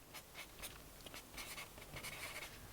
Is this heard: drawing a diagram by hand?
yes